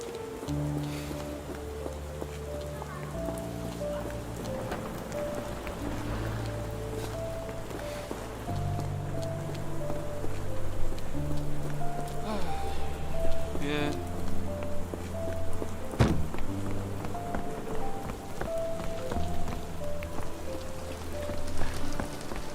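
Steady rain falls on surfaces in the Sherlock Holmes: The Awakened video game, a constant patter beneath game music and occasional speaking voices.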